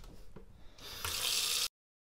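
Hot water gushes from a tap into a bucket for washing wheels on a modified Lexus, a steady hissing pour that grows louder and then stops abruptly.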